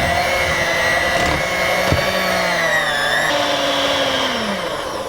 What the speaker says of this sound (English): Just using my hand mixer,